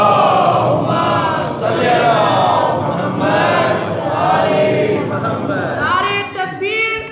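A large mosque or majlis congregation chants salawat in unison during a Muharram sermon gathering, many voices blending into a loud, sustained, swelling chorus that holds for several seconds before tapering near the end.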